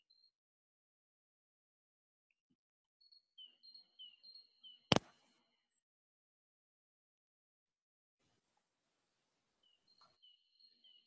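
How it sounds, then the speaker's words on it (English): Faint birds chirp in the background, short high tweets in two small bursts separated by quiet, with one sharp loud knock between them. "I'm just fascinated with your background noise because there's like birds chirping."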